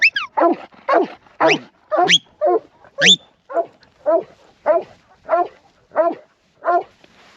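Farm dogs bark in a steady string of about a dozen loud, close barks while mustering ewes, with a few higher yelps at the start and evenly spaced barks afterwards.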